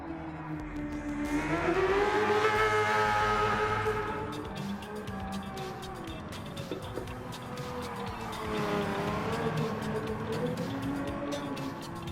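A Group C race car lapping a circuit, its engine droning loudly with rising and falling harmonic pitch as it accelerates and shifts, swelling near then easing, steady sound with no talk.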